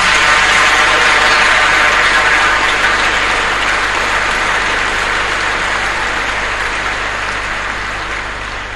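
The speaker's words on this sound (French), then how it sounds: "Applaudissez cette maman." Applause for the mother during a Catholic ordination of eight priests, a broad sustained clapping from a large congregation that slowly fades, over a low steady hum.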